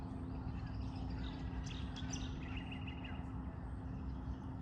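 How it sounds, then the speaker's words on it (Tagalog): Wild birds chirping in a park, thin high calls and short tweets scattered over a steady low hum of distant traffic, faint and somewhat far off, with no talking. "ganyan guys yung mga ibon dito wild lang yan bawal ulihin"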